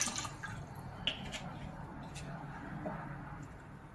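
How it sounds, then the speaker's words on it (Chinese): White vinegar poured into water: faint, close liquid splashes and drips spread over a few seconds under quiet room noise. "把白醋倒进水里，"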